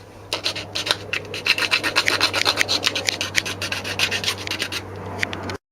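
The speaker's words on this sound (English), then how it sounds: "Now after you filing the edges" A hand file rasps back and forth along the edges of a smartphone holder in quick, even strokes, close and fairly loud against a low steady hum.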